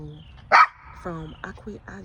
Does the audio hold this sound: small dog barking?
yes